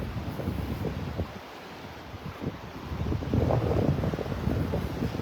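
Wind and surf at Delnor-Wiggins Pass State Park beach in North Naples, a steady broadband rush that swells louder near the end, with no talking.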